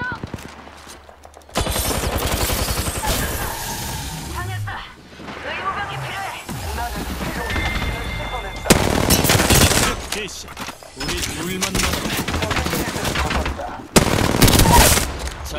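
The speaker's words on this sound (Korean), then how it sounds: "적들이 날 쏘고 있어." Rapid gunfire bursts crackle loudly in the battle royale video game Apex Legends, with repeated automatic volleys, in-game announcer lines and a player talking over the shooting.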